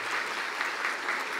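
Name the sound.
audience applauding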